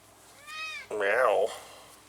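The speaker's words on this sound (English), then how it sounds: "Good kitty cat." A pet cat meows twice indoors, a short rising call followed by a longer, louder wavering meow, close and clear with no other sound behind it.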